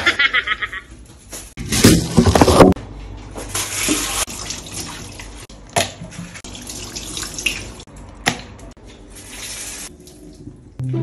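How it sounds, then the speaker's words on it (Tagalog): Tilapia being rinsed under a running tap for paksiw, giving a steady splashing, gushing water sound with a louder burst of flow early on, then continuing close and fairly loud with intermittent clatter. "tapos na natin hugasan tilapia"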